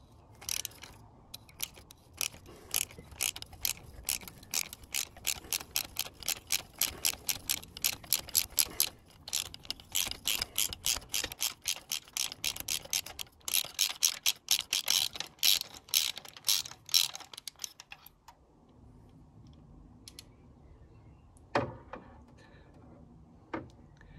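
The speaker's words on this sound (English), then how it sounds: "now take this spark plug out, and they're tight in there" A ratchet removes a tight spark plug from an Audi A3 1.4 TFSI petrol engine, giving long runs of rapid, close, sharp clicking that pause briefly and then stop, with a couple of louder knocks near the end.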